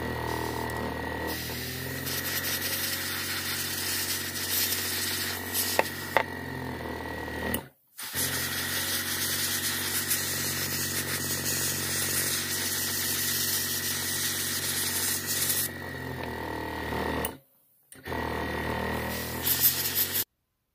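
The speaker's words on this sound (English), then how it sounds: "next step is to airbrush the entire vehicle with surface primer, German Red Brown 73605 from Vallejo" Airbrush spraying a thin coat of Vallejo German Red Brown surface primer over a yellow model vehicle, a steady close hiss running continuously with two brief pauses.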